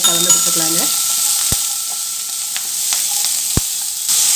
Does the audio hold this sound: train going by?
no